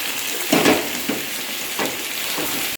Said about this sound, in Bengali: ভাজা আলু ফুলকপি দিয়ে মশলাটা কষাচ্ছি।